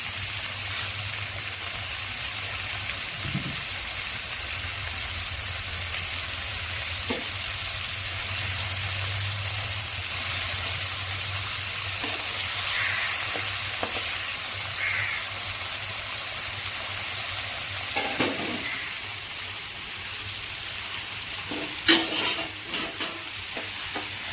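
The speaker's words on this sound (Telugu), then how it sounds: "కరివేపాకులు వేసుకుంటున్నాను ఇప్పుడు" Curry leaves frying in hot oil for Rayalaseema-style uggani give a steady, soft sizzle with occasional stirring clinks, close by and continuous with no talk.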